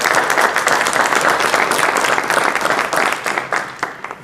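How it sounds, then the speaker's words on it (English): Audience applause fills a school board meeting, a steady, dense patter of many hands clapping at close range that holds through the whole stretch and thins slightly toward the end. "Let's give him a round of applause."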